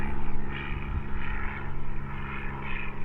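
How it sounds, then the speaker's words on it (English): A propeller aeroplane drones overhead, a loud, steady engine roar with a throbbing, pulsing whine that swells and fades slightly throughout. "Can you see the aeroplane? A bit noisy, isn't it?"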